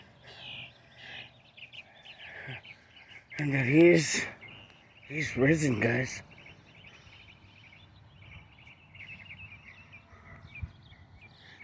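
Sparrows chirp outdoors in short bright bursts, with a couple of louder close calls standing out among fainter twittering, while someone talks over them.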